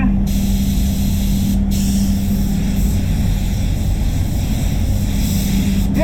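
A paint spray gun set to full fan and full fluid at 2 bar lays a coat on a Peugeot 306 XT, giving a loud, steady, unbroken hiss that runs for several seconds with a few brief breaks.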